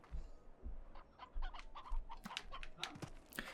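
Chickens clucking in the video game Slime Rancher, a series of short, quiet clucks and squawks repeating irregularly, alone without talk.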